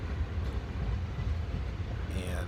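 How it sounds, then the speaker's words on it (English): Train rolling along the coastal line at Golden Gardens Park in Ballard, Seattle, a steady low rumble heard from a distance that holds level for the whole stretch, with no talking over it. "we've got a train going in the background."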